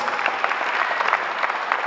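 Wedding guests applaud the flower girls and page boys, a brief burst of dense, even clapping from a crowd in the hall.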